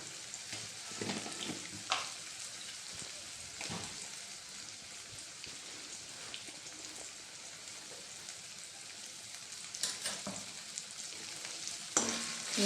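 Tomato with turmeric, red chilli and salt frying in a pan for a Vidarbha-style breakfast, a steady loud sizzle with occasional stirring scrapes and clacks, no talking.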